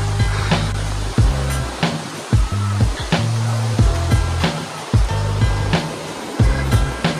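Rushing water from Jogini waterfall near Manali, a steady, loud roar heard nearby on a mountain trail, broken by repeated dull thumps and bumps close to the recorder.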